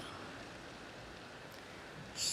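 Steady rain falls outside on a cold, rainy morning, a dense even hiss of drops running throughout with a brief louder rustle near the end.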